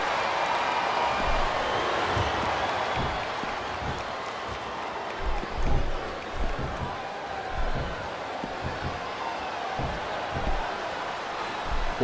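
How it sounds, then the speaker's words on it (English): A wrestling crowd at a WWE Survivor Series elimination match cheers and claps in a sustained arena roar, with rhythmic thuds from the ring punctuating it, while commentators talk over the noise. "Now the fans start to cheer for him"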